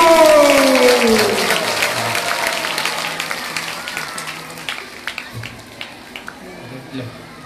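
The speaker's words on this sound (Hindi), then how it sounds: "आप इनके लिए खूब जोरदार ताली बजाओ इनके लिए।" A crowd at a Srimad Bhagwatam katha gathering in Mohan Nagar, Ghaziabad claps in loud, sustained applause. The clapping fades gradually into scattered claps under a low drone and faint background voices.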